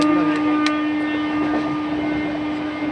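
Steady rumble of a moving train with a constant mechanical drone, a couple of brief clanks, no talking.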